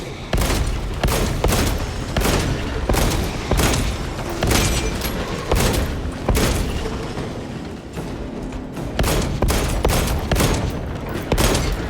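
Rapid, heavy bursts of gunfire from the Space Marine 2 video game crack out in dense, repeated volleys, loud and close, with short gaps between bursts and no talking.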